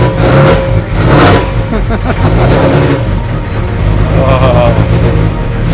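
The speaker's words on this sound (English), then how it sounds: "Give it some gas. Give it more gas, more gas, more gas." A MINI race car's engine is revved repeatedly in a garage, loud throaty bursts rising and falling over several seconds, with people talking over it.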